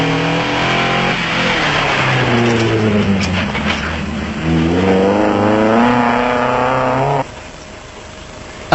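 A Ford production off-road race vehicle at a South African off-road race roars past, its engine loud and revving steadily as the pitch climbs and shifts through gears before dropping away, with no talk.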